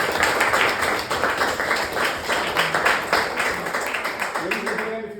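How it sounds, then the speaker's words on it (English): A town hall meeting audience in Osceola breaks into dense, steady applause that stays loud throughout, with a voice starting to speak near the end. "we're going to give you some applause"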